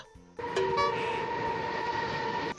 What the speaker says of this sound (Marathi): Train oily.